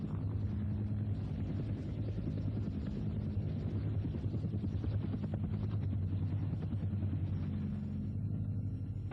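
Marine Cobra attack helicopter closing on oil platforms in a combat attack, a steady loud rotor thump and engine rumble held throughout with no break, no voices.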